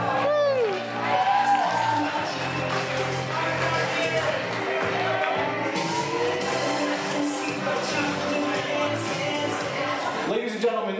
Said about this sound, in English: make an extra special round of applause for Maid of Honor and Best Man